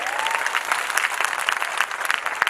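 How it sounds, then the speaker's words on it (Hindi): Loud, dense audience clapping at a Shrimad Bhagavat Katha gathering, sharp irregular claps filling the whole stretch with no talk over them. "जोरदार ताली होनी चाहिए।"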